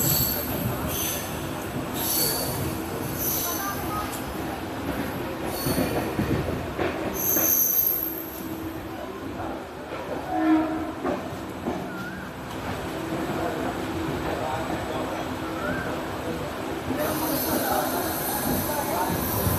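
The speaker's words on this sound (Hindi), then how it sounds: "तो ये आ चुकी है सहारनपुर से चलकर मुरादाबाद की तरफ जाने वाली एक लोकल ट्रेन" A local train from Saharanpur bound for Moradabad, India, rolls into a station with rumbling wheels and high metallic squeals from the rails, crowd voices murmuring nearby throughout.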